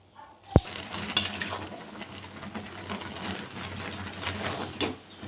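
Taro greens being stirred in a wok over a gas stove: soft scraping and rustling of a utensil against the pan, with a couple of sharp metallic clinks early on, under a steady low hiss of the flame, with no talking.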